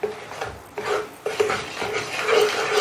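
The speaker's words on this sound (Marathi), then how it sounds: "बेसन अगोदर थोडंसं भाजून घ्यायचं आहे।" Gram flour roasts in hot oil in a pan for a dhaba-style egg masala while it is stirred, giving close, raspy scraping strokes in uneven bursts, with no voices.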